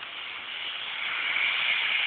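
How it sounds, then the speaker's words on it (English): Steady, dense hiss of heavy rain, constant and fairly loud throughout, swelling slightly toward the end, with no voices; rain flooding a street and sidewalk in Minot. "All from a little bit of rain."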